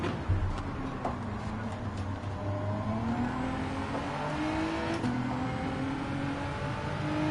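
Race cars, a Ferrari among them, in the Gran Turismo 7 racing game: continuous high engine whine with rising and falling pitch as they accelerate and shift, loud and close, with no talk.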